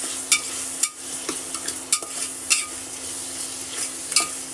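Onion sizzles in hot oil in a pan while being stirred for matar pulao, a steady frying hiss broken by repeated sharp scrapes and clinks of the spoon, close and with no speech.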